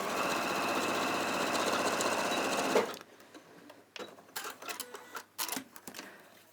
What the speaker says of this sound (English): I'm going to start sewing the seam here about 2 inches down.